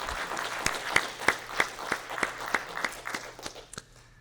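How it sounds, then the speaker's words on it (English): A small audience at an awards dinner claps in slow, spaced, rhythmic unison, about a dozen distinct claps near the listener, over a low steady hum. "let's give one big round of applause to our Laboratory and Compliance Manager, Akin Barbatola"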